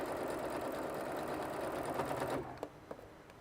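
A sewing machine stitches steadily in a continuous fast whir for over two seconds, then stops, leaving a few faint clicks as it settles.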